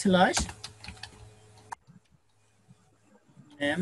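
Typing on a computer keyboard while posting a classified ad, with light clustered key clicks under a man's speech at first, then sparse soft taps in a quiet stretch before talking resumes.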